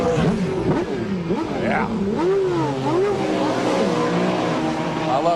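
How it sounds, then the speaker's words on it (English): Race car engine at a 1997 Sebring 12-hour pit stop fires up and revs hard, pitch sweeping up and down through gear changes as it pulls away, loud and close with a brief spoken word. "They're waiting for him to fire the motor, pull the plug."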